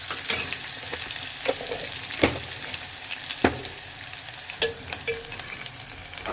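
Onions fry on a low flame for a simple tomato rice dish, a steady close sizzle broken by a few sharp thuds and scrapes of a spoon stirring the pan.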